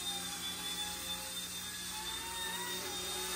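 An RC ERA C186 toy helicopter flying indoors gives a steady, close, continuous rotor whine and buzz that holds level throughout with no talking.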